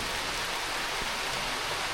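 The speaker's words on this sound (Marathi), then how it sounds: "म्हणजे आतापर्यंत पाऊस नव्हताच, कमी होता, पण आत्ता बघा परत वाढला, सुरुवात झाली" Steady rain falls over a village, a dense even hiss of drops on surfaces with no voices, holding at the same moderate level throughout.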